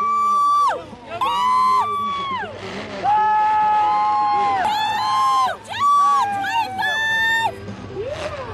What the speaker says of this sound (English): Let's give them all a big round of applause as they come in.